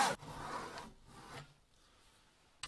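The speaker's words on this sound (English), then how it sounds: "So we'll just finish fret slotting the rest of this" Hand sawing fret slots in a guitar fretboard, two quiet back-and-forth rasping strokes of the saw in the wood followed by near silence, close and faint, with no talking.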